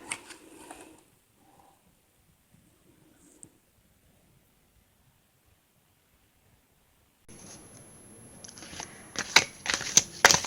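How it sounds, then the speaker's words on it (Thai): Tarot cards are shuffled in brief crisp riffles near the start, then after a quiet pause a longer burst of close, papery flicks and snaps builds toward the end. "ก่อนอื่นขอสับไพ่นิดนึงค่ะ"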